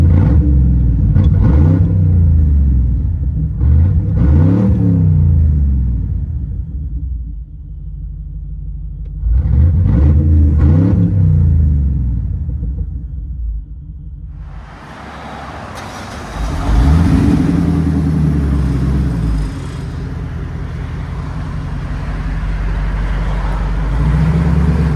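From inside the cabin of a 1999 Ford E-250 van, its 5.4L V8 with true dual straight pipes revs in several loud, deep surges, rising and falling, then settles into a heavy rumbling idle.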